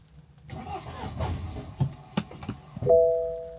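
A car being jump-started from a jump pack, with the clutch held down, cranks with a low rough churning. It seems to catch briefly, then cuts out, and a steady electronic chime sounds near the end.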